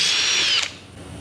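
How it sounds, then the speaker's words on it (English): Power drill with a #191 bit enlarging a 3/16 rivet hole, a brief high whine that winds down after about half a second. "This is a 191 drill"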